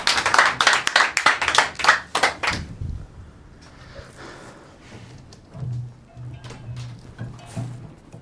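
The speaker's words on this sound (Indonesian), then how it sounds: "Beri tepuk tangan paling meriah untuk Igen Wahang." Live applause for a stand-up comedian at an Indonesian Independence Day comedy show, a dense burst of clapping for about three seconds that then fades, followed by quieter room noise and faint voices.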